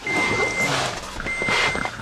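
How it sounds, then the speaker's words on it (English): Electronic warning chime inside a 2012 Toyota Tacoma SR5 manual pickup, two steady tones sounding in turn, close and clear over a faint cabin background. "it's got the newer Toyota chime instead of the older Toyota chime"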